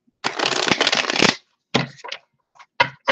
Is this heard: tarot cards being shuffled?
yes